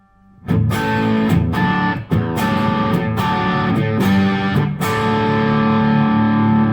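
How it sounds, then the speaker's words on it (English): Electric guitar played through a Laney LC30 valve amplifier with heavy distortion, loud sustained chugging chords with sharp palm-muted attacks and brief breaks, continuous and up close with no voices. "that's the kind of JCM 800 distortion level"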